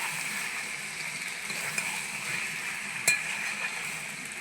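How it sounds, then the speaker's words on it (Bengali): Chicken sautéing in a pan for a spicy Bengali chicken kasha, a soft steady sizzle throughout with faint stirring scrapes and one brief clatter near the end. "এরপর ভালো করে কষিয়ে নেব যতক্ষণ না চিকেনের জলটা শুকাবে ততক্ষণ আমি কষাবো।"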